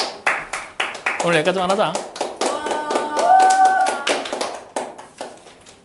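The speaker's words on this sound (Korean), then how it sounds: "박수 치는 거죠." Students in a classroom clap in a run of sharp, rhythmic hand claps, close and fairly loud, while voices talk and call out over them.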